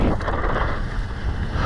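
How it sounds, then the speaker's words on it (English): Strong wind on a ski slope buffets the microphone in a steady, loud, rumbling roar with gusty low-end thumps throughout, close and unbroken with no voices. "Yeah, it's pretty windy"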